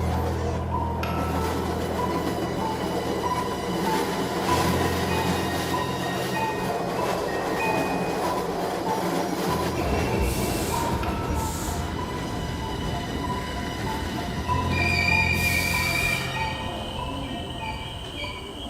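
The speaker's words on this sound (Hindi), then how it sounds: "अभय अब एक लाश के साथ खाली ट्रेन में सफर कर रहा था।" A train runs steadily on rails, its continuous rumble carrying rhythmic wheel clatter, occasional metallic squeals and a brief louder passage near the middle, with no voices.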